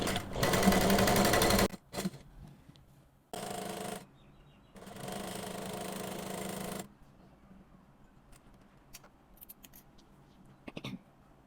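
Sewing machine stitching fabric for a handmade fabric flower, running in three loud, close bursts of rapid whirring separated by short pauses, then quieter handling noises.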